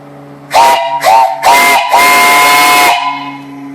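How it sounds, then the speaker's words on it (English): An old steam boiler's whistle blows loud and close: three short toots followed by one long blast, with a steady hiss of steam underneath. "The whistle sounds great."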